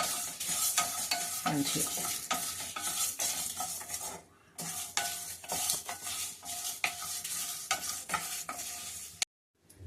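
Spices dry roast in a pan, with continuous close scraping and rattling stirring strokes, a short pause midway and an abrupt stop at the end; a voice briefly speaks.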